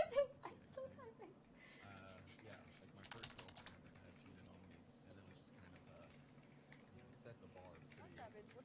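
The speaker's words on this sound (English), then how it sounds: "I'm typing so bad." Rapid, uneven keystrokes on a computer keyboard patter steadily throughout, sitting close by beneath a low background hum and music-like tones, with a voice chiming in near the start.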